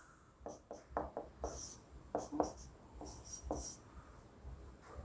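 A teacher writes notes on a board during a class on hydrogen bonding: quick scratchy strokes and taps, some squeaky, in irregular bursts, heard close and fairly faint with no talking.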